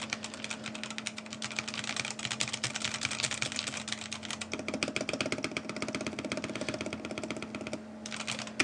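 Typing on a Baldr 60 keyboard fitted with Ice Candy switches, a steady stream of muted, fairly soft clacks in quick irregular rhythm, close up, with a low background hum underneath and no talking.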